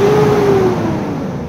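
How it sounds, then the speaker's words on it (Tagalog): A Mitsubishi Strada with a 4D56 diesel engine, just repaired after black smoke and power loss, runs loud and close at a high, steady idle or light rev, settling slightly lower toward the end. "Narinig naman natin ngayon ay sobrang smooth na talaga ang andar ng makina ngayon."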